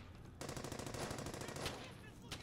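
Machine gun fire in the World War II video game Brothers in Arms: Hell's Highway: a sustained rapid burst of loud automatic shots after a brief quiet start, with a separate crack near the end.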